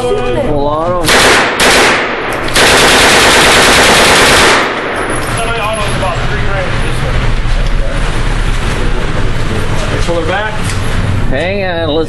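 An FN SCAR rifle fires .308 rounds in loud, rapid bursts close by. Each volley ends in a ringing echo, and people talk in between.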